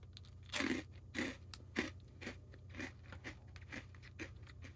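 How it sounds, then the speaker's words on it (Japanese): Crunchy grilled shrimp snack being bitten and chewed up close, a series of sharp crisp crunches that start loud and grow gradually quieter and more evenly spaced, with no talking. "焼きエビを食べてみたいと思います"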